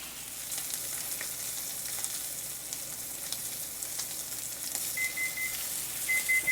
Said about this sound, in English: The hot pan really produces a good sear on both sides of the pork chop